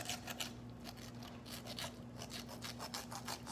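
Pork spare ribs are cut to fit a baking pan, heard as faint, rapid repeated snipping and scraping strokes in a quiet kitchen, with no talking.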